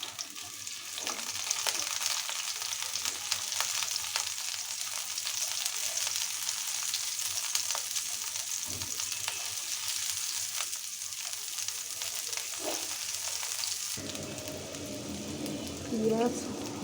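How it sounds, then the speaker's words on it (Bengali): Chopped onion fries in hot mustard oil in a pan, a continuous close, bright sizzle with crackling spits throughout, steady in level, while a voice talks quietly over it. "তেল গরম হওয়ার পরে আমি পেঁয়াজ কুচি দিয়ে দিলাম।"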